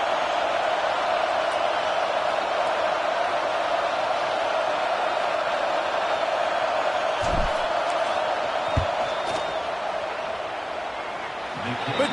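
A stadium crowd in the College Football 26 video game keeps up a constant loud roar during a field goal attempt, with a few thuds and a brief whoop near the end.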